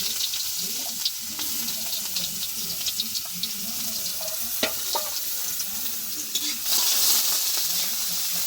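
Pilaf rice cooks in ghee in a home kitchen with a continuous hiss of frying and a few scraping stirs, getting a little louder near the end.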